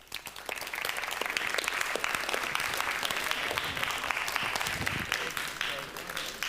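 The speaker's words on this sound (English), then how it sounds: "give yourselves a huge round of applause" A roomful of people at a live science show claps in a loud, sustained round of applause that starts abruptly and holds steady to the end.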